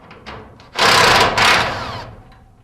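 Power screwdriver backing screws out of a garage door bottom seal, two close whirring bursts with a short gap between them, the second trailing off, plus faint handling clicks before.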